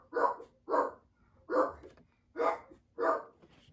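A pet dog barks indoors in a steady series of five sharp barks, evenly spaced about a beat apart, clear and fairly close.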